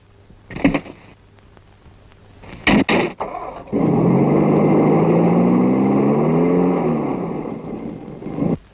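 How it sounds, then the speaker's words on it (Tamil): A car door thuds shut, then the engine cranks, starts and revs up loudly as the car drives off, its steady roar fading slightly at the end, with no talk over it. "டிரைவர், வண்டி எடு."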